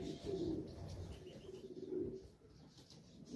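Racing pigeons cooing softly in a loft, a few low, throaty coos rising and falling over faint background noise.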